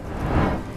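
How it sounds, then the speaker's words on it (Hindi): Heavy rain in an animated Hindi cartoon story, a steady broadband wash that swells slightly mid-clip, with a low rumble underneath, heard alone for under a second. "क्या रे झुमा, इस तेज बारिश में यहाँ खड़ी खड़ी क्यों भीग रही है फिजूल में?"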